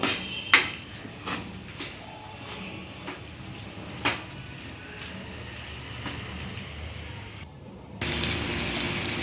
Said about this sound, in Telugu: సాల్ట్ యాడ్ చేసుకొని గరిటెతో కలుపుకోవాలి చికెన్ ముక్కల్ని.